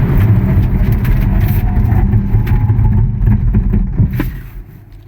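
MG X-Power electric car braking hard to a full stop; a loud, steady road and drivetrain roar fills the cabin, then drops sharply as the car halts.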